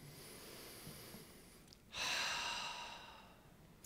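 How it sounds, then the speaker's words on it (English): A room full of people draws one big deep breath together, a broad airy inhale swelling suddenly and then slowly fading, with quiet room noise before it. "we're all going to take one big deep breath, so breathe in"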